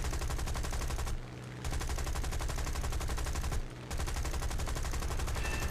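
Aircraft machine guns firing in the War Thunder video game, a steady dense rattle of rapid bursts running almost continuously, broken by two short pauses, loud and close without talk.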